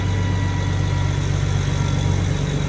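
A BMW E92 335i with a single-turbo N54 engine idles steadily and close by, a low, even rumble with a constant hum and no revving or talk.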